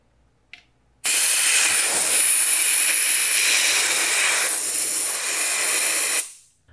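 A Milwaukee M18 Fuel air compressor tank venting pressure in one loud, steady hiss that starts abruptly after a small click, holds for about five seconds, then tapers off quickly.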